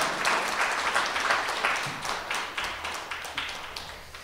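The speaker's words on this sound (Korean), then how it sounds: "예, 박수 한번 드릴까요?" Audience applause at a Korean book talk welcoming an author, a steady patter of many hands clapping throughout at moderate level with no voices over it.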